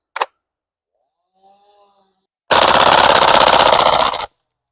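An airsoft gas blowback HK UMP45 fires full auto on its first gas fill, a loud, rapid burst lasting almost two seconds. A single sharp click comes first, then faint mechanical sounds before the burst.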